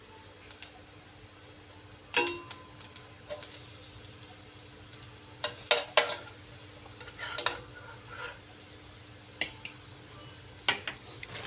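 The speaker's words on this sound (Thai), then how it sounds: "จียวกระเทียมให้หอมก่อนนะครับ" Chopped garlic sizzles in a pan under a low steady hiss, while a spatula scrapes and clacks against the metal in irregular bursts, some sharp and loud, others softer, with no talking.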